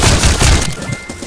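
Gunfire in the Roblox Trenches video game: a quick run of heavy, booming shots fills the first half-second, then fades into a quieter tail with no talk over it.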